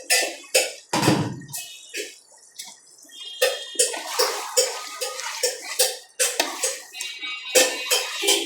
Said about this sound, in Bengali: ঢাকনাটা সরিয়ে আমি আবার এটাকে একটা নাড়া দিয়ে দিচ্ছি।